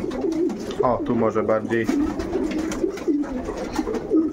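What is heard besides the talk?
pigeons cooing in a loft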